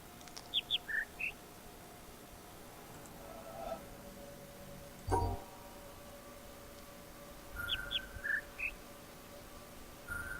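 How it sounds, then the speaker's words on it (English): Short three-note birdsong from a speaker in the puzzle game The Witness, two high chirps followed by a lower one, heard twice with a gap between over a faint ambient hum. "there's 3 notes to the Birdsong"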